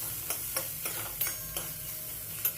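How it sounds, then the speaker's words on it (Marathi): Capsicum frying in a pan for shimla mirchi bhaji made with groundnut powder, with a steady sizzle under a series of sharp spatula taps and scrapes against the pan, close and alone. "शिमला मिरची ॲड करते आहे आणि ते सगळं हलवून घेईन मी."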